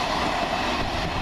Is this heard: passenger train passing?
yes